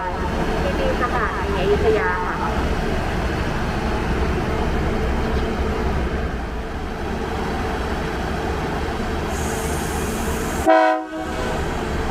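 A passenger train arriving at Ayutthaya station in Thailand rumbles steadily under a platform announcement, with a couple of brief horn toots near the start and a short loud burst near the end.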